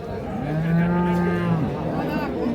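Cattle at a market, Holstein Friesian cows, give a loud, close, drawn-out moo lasting over a second, rising and then sliding down, with a busy crowd murmur behind it and no clear talk.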